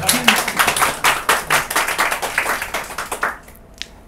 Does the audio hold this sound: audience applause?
yes